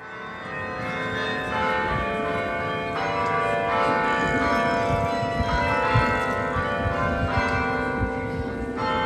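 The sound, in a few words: church bells ringing in York, England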